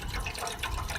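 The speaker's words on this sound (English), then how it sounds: "So now we're just gonna add, I guess, like 1 cup of water." Water poured into a pot for mashed potatoes, a brief close splashing, gurgling fill with bursts of bubbling, no talk.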